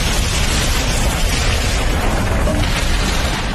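A bomb explodes in an action film, filling the whole clip with a loud, continuous roaring rumble and blast noise without a break.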